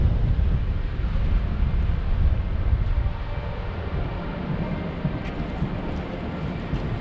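Strong wind buffets the microphone in a constant low roar by St James's Park near Buckingham Palace in London, with no voices over it.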